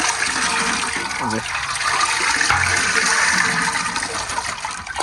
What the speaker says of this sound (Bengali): 2-3 পলি জল তুলে আর কি এরকম ভাবে দেব।